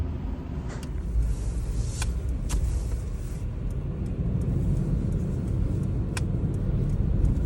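A car drives steadily on a Ukrainian farm on the way to a field monolith, with a continuous low engine and road rumble throughout and a few brief higher clicks or rattles, with no talk.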